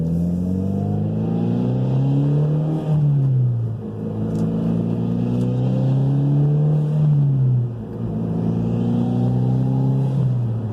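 A Mitsubishi Lancer Evo X on its stock turbo accelerates hard from inside the car, its engine note climbing through the revs in three rising pulls with brief dips at the gear changes, loud and close; no talk.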